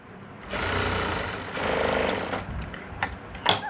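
Sewing machine stitching layered fabric, running in two bursts of steady mechanical chatter, moderately loud and close, followed by a few sharp clicks and handling knocks.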